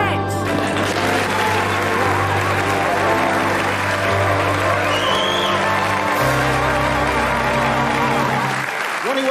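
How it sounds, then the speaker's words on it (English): A studio audience applauds to welcome Ronnie Corbett onto a 1994 comedy show, loud and sustained clapping with some cheers and whoops, over music that cuts out at the end. "We give a sporran of laughter and a muzzle of applause to our celebrity Highland Terrier"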